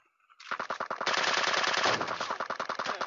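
A minigun firing in the video game PUBG Mobile zombie mode, a loud rapid unbroken stream of shots that starts abruptly and holds steady for a few seconds.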